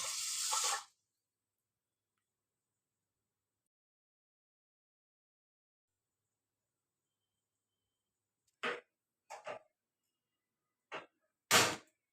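Two glasses of water poured in during home cooking of an Indian lunchbox dish: a short, loud rushing pour at the start, then a long silence, then a few brief splashes and knocks.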